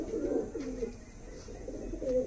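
Punjabi pigeons coo nearby in a soft, repeated low rolling rhythm, several throaty calls following one another with no talk.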